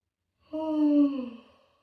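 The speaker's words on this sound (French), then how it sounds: "Et on bâille." A person yawns during a relaxation exercise in a group class. It is a single drawn-out voiced yawn that rises and then fades over about a second, heard clearly in an otherwise silent room.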